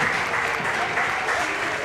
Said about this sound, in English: The applause rains in,